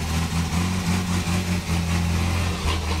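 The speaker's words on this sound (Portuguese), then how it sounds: "Gente, é um caminhãozão, cê é louco, olha." A large truck passing close on a narrow dirt country road, heard as a steady, loud low engine drone with a slightly pulsing rumble throughout, no talk.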